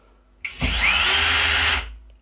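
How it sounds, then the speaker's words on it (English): A Worx WX177.9 brushless driver on setting 1 runs a screw down into soft wood in one loud, continuous whir of about a second and a half, starting abruptly and then winding down. "We're just going to do a fairly simple drill down, or screw drive down, sorry, with setting number 1"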